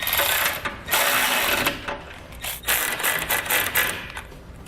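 A 3/4 inch socket wrench snugs up hardware on a Roadmaster crossbar-style base plate on a 2014 Jeep Wrangler, giving loud, close, continuous rapid ratcheting clicks in bursts with brief pauses between strokes.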